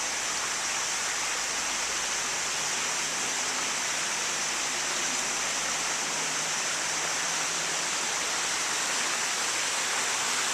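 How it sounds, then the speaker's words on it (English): A creek runs below a landing at the bottom of a set of steps, giving a steady, even broadband rush of flowing water that holds constant throughout with no voices. "These steps come down to a landing where you can see the creek"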